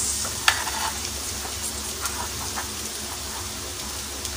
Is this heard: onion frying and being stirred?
yes